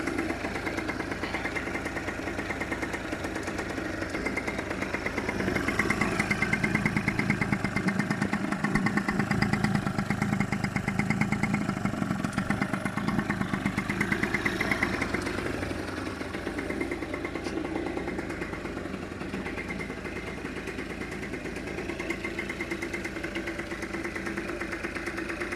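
A small scooter engine idles steadily after a cylinder and piston replacement, a close, continuous mid-pitched putter with light mechanical clatter, holding even for the whole stretch without talk.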